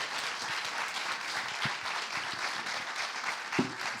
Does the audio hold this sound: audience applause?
yes